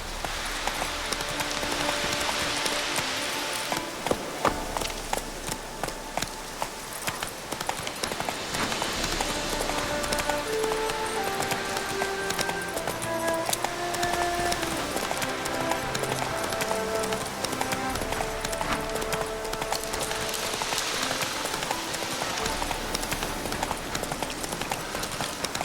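The horse Roach gallops steadily in The Witcher 3, a continuous rapid clip-clop of hooves held throughout under a dense layer of game ambience and music.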